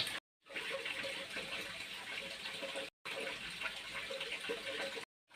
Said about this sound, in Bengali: এখন আমি অল্প জল দিয়ে মশলাগুলো মিশিয়ে নেব